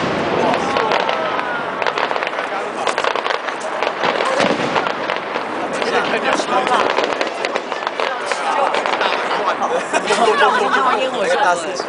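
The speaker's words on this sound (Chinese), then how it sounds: "烟火秀" New Year's Eve fireworks show in Zhubei, Taiwan, in 2010: continuous crackling bursts and booms roll on for the whole stretch while a crowd chatters and murmurs underneath.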